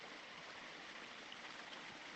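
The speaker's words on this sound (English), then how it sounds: "Let's just concentrate on the water sound for a second." Running water of a stream at Biddulph Grange country park, a steady broadband rush and gurgle filling the whole clip at close range with no voices.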